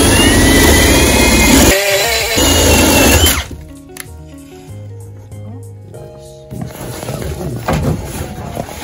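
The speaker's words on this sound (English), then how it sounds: "Just drill the damn hole." A power drill whines loudly and steadily for a few seconds while drilling a hole for electrical wiring in a school bus conversion, cuts out briefly, then drills again before the sound drops to quieter handling noises and a final burst.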